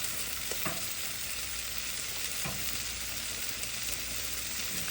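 Beef and corn sizzle steadily on a Blackstone griddle, a continuous close frying hiss with faint scraping stir sounds and no talking.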